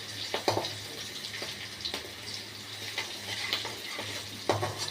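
Gentle frying sizzle of red chillies and ginger with a spatula stirring and scraping the pan, a few sharper taps and scrapes at irregular intervals, close by and without talk.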